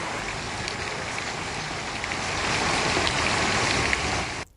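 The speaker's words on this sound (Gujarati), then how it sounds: "મોલીમાં વરસાદ." Heavy downpour pounding steadily after a hot, humid spell in farmland villages of Gujarat, a dense broadband roar that swells slightly midway and runs unbroken to an abrupt stop, with no voices.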